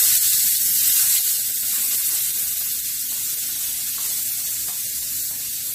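Chopped garlic sizzles steadily in hot oil in a pan at the start of cooking chicken kinamatisan, a close, even frying hiss that holds for about six seconds with no talk.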